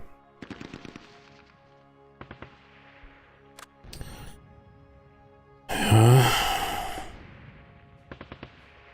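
Short bursts of light machine gun fire crackle in a WWII airborne-campaign video game, with several rapid rattling volleys spaced apart. A louder blast or rush of sound comes near the end, and no one talks.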